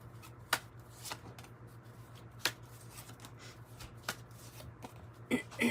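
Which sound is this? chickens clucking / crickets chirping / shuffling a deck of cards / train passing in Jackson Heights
shuffling a deck of cards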